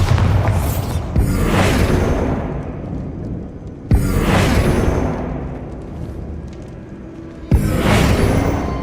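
Three heavy booming blasts of the Bombarda spell in Hogwarts Legacy, each a sudden loud detonation with a rushing whoosh that rumbles and fades over a few seconds before the next hits.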